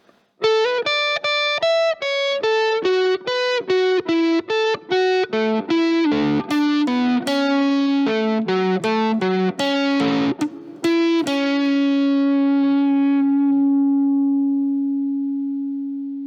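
Electric guitar with a distorted, chorus-tinged tone plays the second third of a riff slowly, one clear note after another, and ends on a long sustained note that fades.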